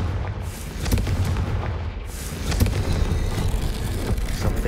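Confringo blasting spell explosions in the Hogwarts Legacy video game: repeated booming blasts and crackling impacts sound throughout, loud and dense, over a steady rumbling backdrop with no talk.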